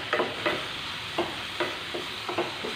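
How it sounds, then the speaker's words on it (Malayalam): Spice powders and garam masala being sautéed in a pan for macaroni, a soft steady sizzle under a series of light, irregular scraping stirs of a spoon against the pan. "ഇനി ഒരു മീഡിയം ഫ്ലെയിമിൽ വെച്ചിട്ട് ഈ പൊടികളുടെ പച്ചക്കുത്ത് പോകുവോളം നന്നായിട്ടൊന്ന് വഴറ്റിയെടുക്കാം"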